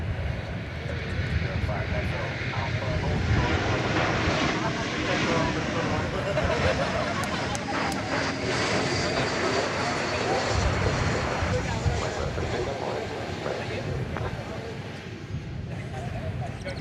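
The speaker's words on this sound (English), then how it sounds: "It's an American Airlines Airbus A321." An American Airlines Airbus A321 airliner passes at DFW Airport with a loud, broad, sustained engine roar that fills the whole stretch, while a person talks intermittently over it.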